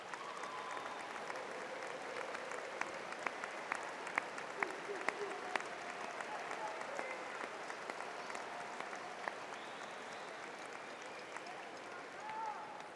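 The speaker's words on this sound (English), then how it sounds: "graduates, let's give our family members a round of applause" A large commencement crowd at a university graduation applauds, a broad continuous wash of clapping from many people in a big hall, with a few sharper nearby claps standing out.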